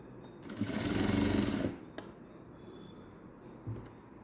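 A sewing machine runs a single seam on a lined princess-cut blouse, one loud close burst of about a second followed by a couple of faint clicks against quiet room noise.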